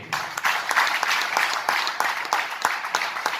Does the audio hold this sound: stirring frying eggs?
no